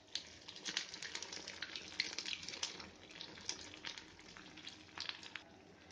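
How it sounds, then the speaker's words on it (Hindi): Bread chicken pakoda frying in hot oil gives a soft, steady crackling sizzle with scattered sharp pops throughout, fairly quiet and close, with no talking. "ब्रेड चिकन पकौड़ा फ्राई कर लेते हैं।"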